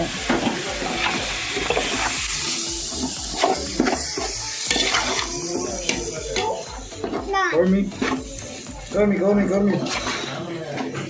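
Chopped tomatoes hit a pan of sizzling mutton biryani masala and are stirred, with steady frying hiss, scraping and occasional utensil clinks close up while people talk over the cooking.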